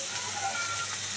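Water is poured into a cooking pot holding masala, onions, cumin and garlic for kabuli chana, giving a brief, close, steady gushing splash.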